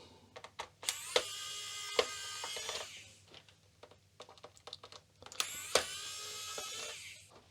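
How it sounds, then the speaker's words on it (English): A small electric screwdriver drives tiny screws on a Commodore VIC-20 computer during restoration, giving two high-pitched whirring runs a few seconds each, with clicks and handling taps between them, close and quiet. "but I have a little electric screwdriver."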